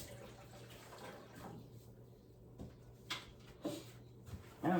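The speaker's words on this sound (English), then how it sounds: "Let me wash my hands. I got some soapy water over here." Hands being washed with soapy water at a sink in a home kitchen while preparing chicken: soft running water and splashing with a few brief clatters, rising louder near the end.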